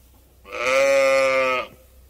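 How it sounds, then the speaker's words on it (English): A single sheep lets out one long, loud, wavering bleat close by, lasting about a second against an otherwise quiet background. "So this is my sheep now."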